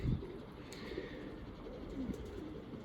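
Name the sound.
pigeons cooing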